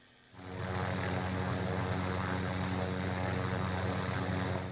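A helicopter in Call of Duty: Warzone spins up and then drones steadily and loudly with a constant rotor and engine hum, filling the clip with no talk.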